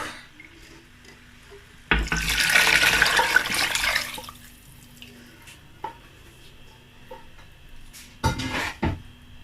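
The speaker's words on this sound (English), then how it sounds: "I'm going to add the stock." Chicken stock pours into a pot of Nigerian jollof rice, a loud splashing gush for about two seconds, followed by light clinks and a second short burst near the end.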